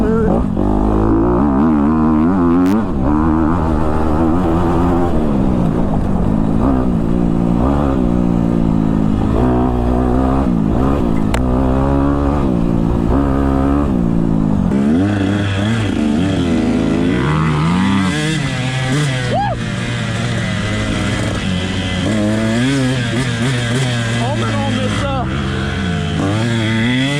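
A Honda CRF250R four-stroke dirt bike rides through woods, its engine loud and close throughout with steady revving and shifting pitch as it accelerates and eases off.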